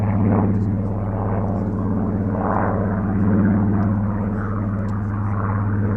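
A propeller aircraft at an air festival drones overhead with a steady buzzing engine hum, loud and continuous, while a commentator talks over it.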